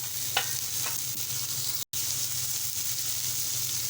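Finely chopped tomato is tossed into a hot pan for a Malvani potato bhaji and stirred, giving a steady broadband sizzle with a couple of faint scraping strokes early on. There is a brief dropout near the middle, and no one speaks.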